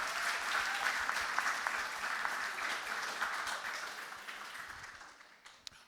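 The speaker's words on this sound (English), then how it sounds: "Big round of applause once again for Michelle Nathan." Audience applause at the Asia House poetry slam, a dense, even round of clapping from a crowd that gradually fades away toward the end.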